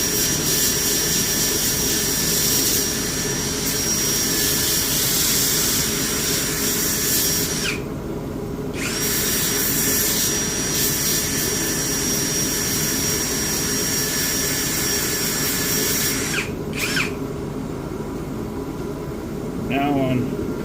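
A power tool grinds burrs off the edges of an irreplaceable Monte Carlo car fender, a loud continuous whine with brief pauses and restarts, close by; a voice speaks over it.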